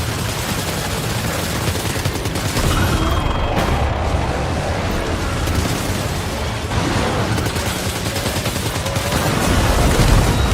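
Dense, continuous gunfire and rumbling combat noise in the Death Stranding 2 video game, loud and steady throughout with heavy low-end booms mixed in.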